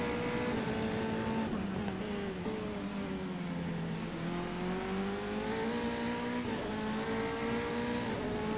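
Race cars in a sim racing game at Oulton Park, engines droning loud and steady as they accelerate out of the first chicane, pitch dipping through the corner then climbing again through gear changes.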